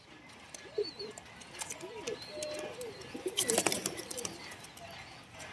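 A breeding pair of pigeons coos in soft, repeated throaty bursts, fairly close, with faint chirps and clatter among them.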